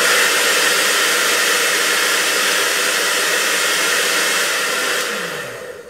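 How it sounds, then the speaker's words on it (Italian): A hair dryer blows loud and steady on a dog for several seconds, a constant rushing whoosh, then winds down as it switches off. "Accendi il phon."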